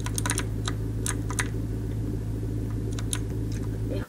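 Quick bursts of typing on a computer keyboard, irregular clicks over a steady low hum of background noise.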